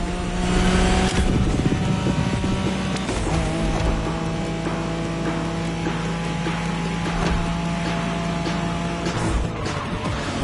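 A Nissan Skyline's engine drones steadily through a race in The Crew Motorfest, a continuous mid-level roar with a sustained low tone and shifting pitch, running alone for about ten seconds without talk.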